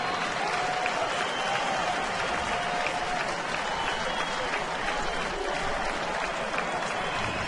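A baseball stadium crowd of more than 26,000 rises to its feet and applauds steadily, a broad, even wash of clapping and murmur from a distance, with a faint voice running underneath.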